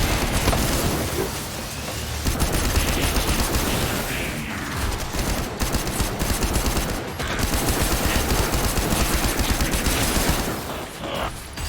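Guns in the Stormland VR game firing in rapid, dense bursts, a continuous crackling barrage with short pauses, loud and close.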